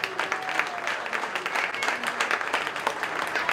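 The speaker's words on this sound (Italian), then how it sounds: "Signori, ancora un applauso per Tonino Farrucciu!" Audience applause for an honoree at a football club ceremony, dense steady clapping from a crowd, moderately loud, with a faint voice briefly underneath.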